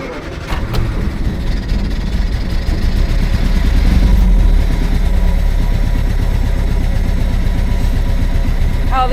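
A Triumph Herald car engine runs on choke, a loud, steady, rough idle that rises slightly midway, with the revs holding close and continuous throughout.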